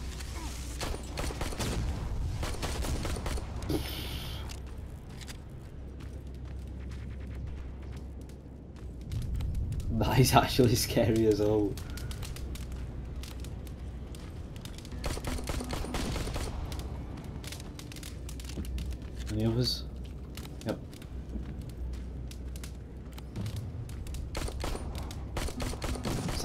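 Gunfire and mechanical clatter in the video game Terminator: Resistance, a few loud bursts of shots and metallic crashes among quieter game ambience, with someone talking over it.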